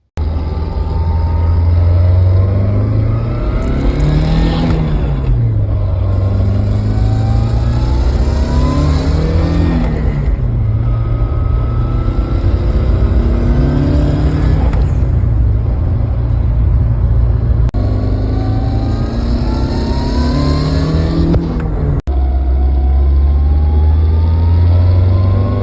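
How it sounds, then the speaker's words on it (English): A Nissan 240SX S13 with an SR20 engine and manual transmission is driven hard: loud, close engine revs rise and fall in repeated pulls, each broken by a gear shift, over steady road roar. "I guess I'll throw in some before driving clips"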